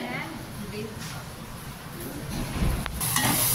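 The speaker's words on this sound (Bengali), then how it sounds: "এদিকে আমি চিকেনের মশলা কষাচ্ছি" Chicken masala frying in a pan for a Bengali home meal, giving a steady low sizzle and stirring scrape that swells a little louder toward the end, with no talking.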